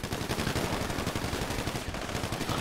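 Rapid SMG gunfire in a roleplay shooter video game, a dense, continuous burst of automatic shots that fills the whole stretch at steady, loud volume, with no talk over it.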